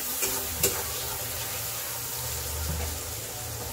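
Tomatoes added to a spice tempering fry in a pan with a soft, steady sizzle, faint and continuous, with a couple of brief clinks near the start.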